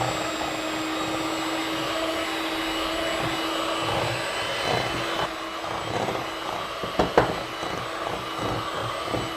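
An electric mixer whirs steadily, blending cookies and cream batter in a bowl with a continuous loud motor drone and a few brief clunks near the end.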